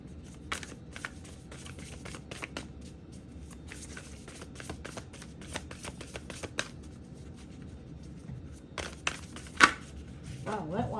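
Oracle cards shuffled in a soft, steady run of papery riffles and taps across the clip, with a few sharper slaps near the end, fairly quiet and close.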